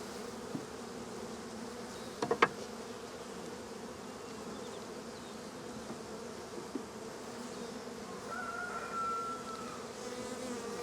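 Honeybees crowd an open hive in a split, filling the air with a steady, dense buzzing hum close by, with a few brief knocks and a passing higher whine, and no talking.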